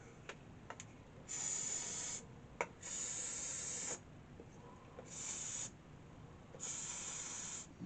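Switch cleaner sprayed from an aerosol can onto the wave change switch of an old Invicta superhet radio, four close hissing bursts of one to two seconds each, separated by short pauses and a few small clicks.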